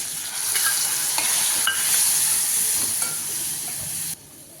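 Bottle gourd pieces frying in a little oil sizzle steadily and loudly up close, with occasional stirring clicks against the pan, before the hiss drops off sharply near the end; no talking.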